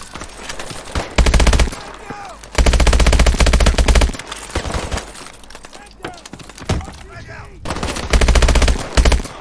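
Bursts of automatic gunfire in Call of Duty Advanced Warfare, several loud rapid sprays separated by short pauses, with someone talking over the shooting.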